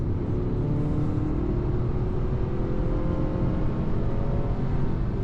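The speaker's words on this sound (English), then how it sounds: "A bit of an engine noise coming in here and there" A 2025 Acura TLX A-Spec sport sedan speeding up on the road: steady engine drone and tire rumble, a constant close interior roar with no voices.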